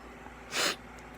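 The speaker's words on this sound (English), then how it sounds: "can't stop sneezing!" One short, sharp sneeze bursts out close to the mic amid quiet room tone, with nobody speaking.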